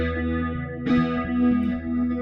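A sustained electric guitar chord rings out with heavy reverb, a fresh strum midway blooming into a washy, echoing tail.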